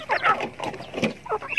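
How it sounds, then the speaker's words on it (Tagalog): Native farm chickens cluck in a few short, close bursts, brief bright calls separated by small pauses. "So ayan yung mga manok."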